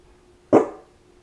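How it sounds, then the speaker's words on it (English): A single dog bark, sharp and short, sounding at a moderate distance against a quiet indoor background. "There's a dog barking somewhere."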